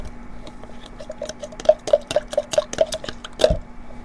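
A spoon stirs coconut milk mixed with corn flour in a cooking pot, making a run of light, evenly spaced clinks against the metal, close and fairly soft.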